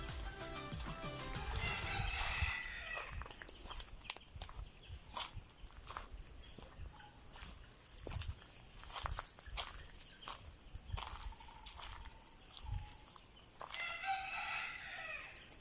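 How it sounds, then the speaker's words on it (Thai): Small wild junglefowl in the grounds of a shaded forest temple crow repeatedly and cluck between calls, while footsteps crunch and shuffle close by; the crows stand out at the start and end over quiet ambient rustle. "นี่เป็นไก่ป่าแหละตัวเล็ก ๆ"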